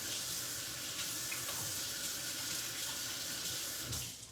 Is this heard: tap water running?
yes